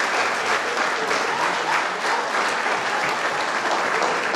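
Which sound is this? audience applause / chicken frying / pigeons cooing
audience applause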